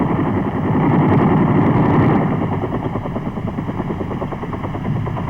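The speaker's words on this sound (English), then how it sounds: "During the final approach, the escort gunships break away from the troop column and strafe the flanks of the LZ about 30 seconds before the first slicks arrive." Military helicopter gunships and troop-carrying slicks approaching a landing zone, a dense close rotor and engine drone with rapid choppy pulsing, briefly swelling louder before settling into a steady throb, with no talking.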